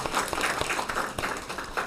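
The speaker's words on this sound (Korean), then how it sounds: "감사의 박수를 드리겠습니다." Church congregation at a Sunday morning service giving warm applause to the choir after a hymn; dense, close clapping that stays fairly steady throughout, with no speech over it.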